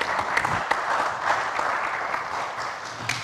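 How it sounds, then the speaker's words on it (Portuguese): Studio audience applause of a live Brazilian afternoon TV show, a dense, steady wash of many hands clapping at moderate loudness with no break over the whole span. "vamos aplaudi-lo"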